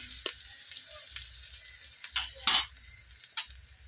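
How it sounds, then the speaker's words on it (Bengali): Sliced onion frying in oil in a pan, a soft continuous sizzle with small crackles and a few louder bursts of stirring scrape, close and steady without talk. "পেঁয়াজটা আমি তেলের মধ্যে একটু কষিয়ে নেব"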